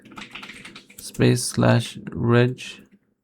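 Computer keyboard keys clatter in quick bursts as commands are entered at a PC, with rapid close clicking in several short runs while someone talks over them.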